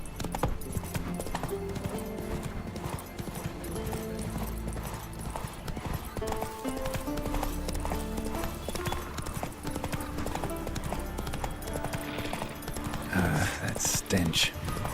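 Horse hooves clip-clop in a rapid galloping rhythm in The Witcher 3 video game, continuous and fairly close, with game dialogue and voices over the top and a brief whinny-like burst near the end.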